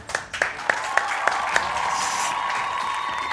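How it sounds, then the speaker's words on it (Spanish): Sparse clapping from a small studio audience on a Peruvian football show, starting with a few distinct loud claps and then settling into a thin, steady patter of applause. "Aplauso para Pedro García, por favor."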